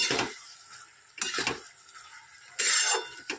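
Fried egg being stirred into kochur loti (taro stolons) in a pan, with scraping and clinking of a spatula against metal in three separate bursts over a soft sizzle.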